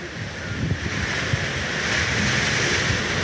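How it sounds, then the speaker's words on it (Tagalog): Strong wind sweeps over a house in rainy weather after an earthquake, a continuous loud roar with irregular low rattles and knocks like loose galvanized iron roof sheets shaking at the back. "Yung yero namin sa likod, grabe yung tunog guys."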